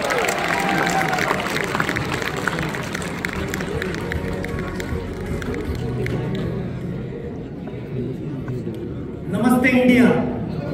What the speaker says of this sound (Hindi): जोरदार तालियां शिलाजीत के लिए